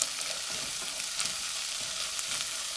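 Carrots and celery fry over a medium-low flame with onion, giving a steady, even sizzle with light stirring clicks close by and no voices.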